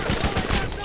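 Continuous rapid gunfire in the Borderlands PC game, a dense, loud burst of shots filling the whole short moment.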